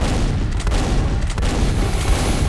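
Weapons fire in the video game Quake comes as a loud, dense, continuous barrage of booming shots and blasts, with no break in the racket.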